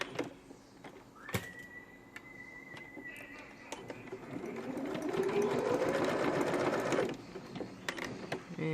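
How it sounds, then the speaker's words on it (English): A sewing machine top-stitches the last side of a card slot section, its motor whirring in a steady close hum that speeds up and swells before stopping, with a few clicks around it. "Just coming up to the last corner of that now, just top stitching that last side."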